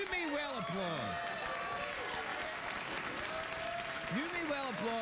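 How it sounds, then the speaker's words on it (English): Studio audience applause on a late-night talk show: a dense wash of clapping with rising and falling whoops and cheers over it, steady throughout. "You may well applaud."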